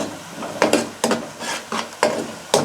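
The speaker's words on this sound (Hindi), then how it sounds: "अब मैं इसमें अदरक का पेस्ट डाल लेती हूँ, लहसुन का पेस्ट डाल लेती हूँ, उसको अच्छे से मिक्स कर लेती हूँ और इसको भी 1 मिनट तक फ्राई कर लेती हूँ।" Onion, ginger and garlic paste frying in a pan for a chicken curry, a soft sizzle broken by regular rhythmic scrapes of a spoon stirring, close and fairly loud.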